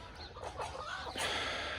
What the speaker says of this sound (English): Chickens are good.